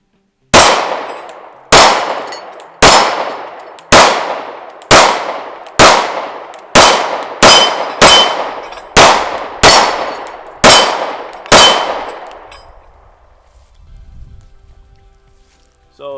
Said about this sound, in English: we're gonna do 13 more rounds on various steel, hopefully without too many misses